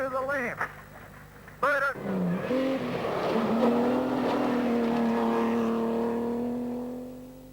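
A Mazda Group N rally car races along a forest stage in the 1988 Tokoroa Rally, its engine rising and holding a steady loud drone after a couple of quick gear changes, with commentary heard over it.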